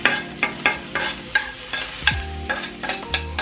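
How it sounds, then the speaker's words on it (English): Onions browning in a skillet for spiced chickpeas crackle under a spatula, with sharp scraping strokes every half second or so over a low steady sizzle and no talk. "the onions are browning really well"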